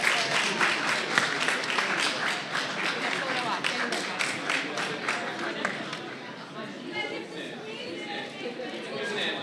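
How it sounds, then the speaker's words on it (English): A crowd at a science, technology and health symposium claps steadily, the applause fading gradually toward the end amid overlapping chatter from many people. "Let's like give them a little round of applause."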